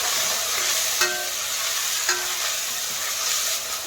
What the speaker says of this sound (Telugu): అల్లం వెల్లుల్లి పేస్ట్ పసుపు కాస్త కస్తూరి మెంతి వేసి కలపాలి